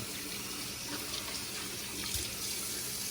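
Water runs steadily from a tap while a shaving brush is wetted, a continuous close hissing splash with no pauses.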